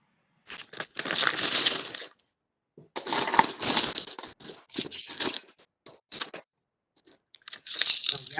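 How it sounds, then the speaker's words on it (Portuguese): Paper being crumpled and crushed in a classroom, a run of dense crackling bursts in several separate bouts, fairly close and moderately loud, with no talk over it. "Alguém amassando papel aí."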